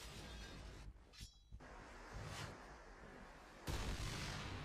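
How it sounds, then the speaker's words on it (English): A video game explosion during an esports tournament match: crackling, gunfire-like bursts and debris noise build up, then a loud, close, broadband blast erupts near the end and roars on without fading. "That was big explosion right there."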